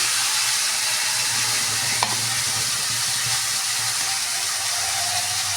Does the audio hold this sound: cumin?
yes